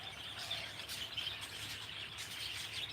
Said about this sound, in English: Yeah, birds are right behind you.